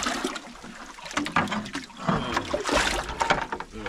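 Water is poured in among freshly caught grouper, making close, splashy sloshing bursts that come in uneven surges.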